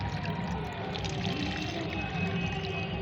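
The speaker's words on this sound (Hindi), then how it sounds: "इसको हमें छान लेना है। छानने के बाद इसे हमें डाइल्यूट करना होगा। तो पहले मैं इसे छानती हूँ।" Homemade banana peel liquid fertilizer trickles and splashes steadily through a strainer, a continuous close pouring wash with light drips and no talking.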